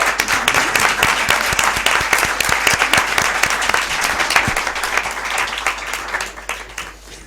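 Sustained applause from an audience at a book presentation for a 250th-anniversary history of the Real Sociedad Económica Matritense de Amigos del País, dense steady clapping that thins out toward the end.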